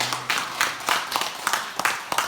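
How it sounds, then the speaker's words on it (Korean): A church congregation at a revival meeting breaks into clapping, a quick run of rhythmic bursts of hand claps in a roomy space, with a faint voice at the very start. "박수 한번 합시다"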